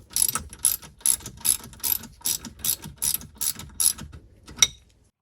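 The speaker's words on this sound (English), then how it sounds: "I will transition to the ratcheting style wrench" A ratcheting wrench loosens a bolt on a Sea-Doo GTX 951DI engine, giving about ten crisp, evenly spaced bursts of ratchet clicks close up, then a single sharper click at the end.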